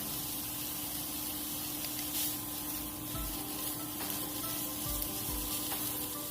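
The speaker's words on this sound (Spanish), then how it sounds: "Aquí lo vamos a dejar a que se sofría perfectamente bien con su propia grasa." Chorizo frying in its own rendered fat in a hot skillet without added oil, a soft, continuous sizzle and crackle with faint occasional pops, fairly quiet and steady throughout, no voices.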